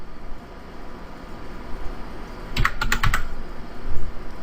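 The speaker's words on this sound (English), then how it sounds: "what we want to do is we want to type in airmon" Quick burst of key presses on a computer keyboard entering a terminal command, about half a dozen close clicks in rapid succession over steady background hiss.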